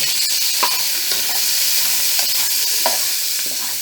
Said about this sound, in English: Going to throw in my onions, my garlic, and my tomato.